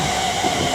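A Class 350 electric train pulls into Lichfield Trent Valley station on the West Coast Main Line, a close, steady rumble of wheels and motors running continuously and loud.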